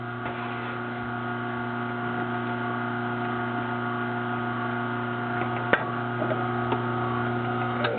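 Juicer machine running while juicing Swiss chard, a steady loud motor hum with a fixed drone, plus a single sharp click and a few faint knocks near the end, no talking.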